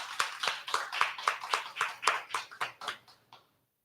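A handful of people clapping in a quick, even rhythm in a live radio show studio, about a dozen crisp claps close by that stop abruptly.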